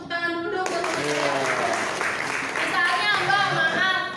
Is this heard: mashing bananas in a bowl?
no